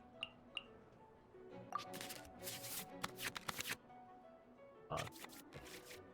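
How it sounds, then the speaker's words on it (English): Cards being drawn and played in the Genshin Impact card game tutorial, heard as scattered game sound effects: soft chimes, then bursts of quick shuffling card swishes, with quieter gaps between. "This one, draw 2 cards."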